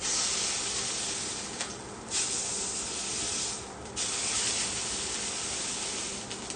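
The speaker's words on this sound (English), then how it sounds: "I'll just sear the edges" Food sears in a hot pan, giving a loud, steady sizzle that briefly dips and returns twice before carrying on unbroken.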